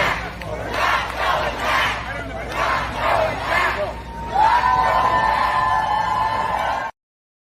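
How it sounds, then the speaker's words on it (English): A large political rally crowd in Pennsylvania chanting a short slogan in repeated rhythmic bursts, loud and roaring, followed by sustained cheering with whistles before it cuts off abruptly. "Everybody was chanting, "We're not going back.""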